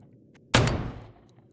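A single sharp 9mm pistol shot in a post-apocalyptic survival video game, a loud close crack with a short decaying tail before quiet returns.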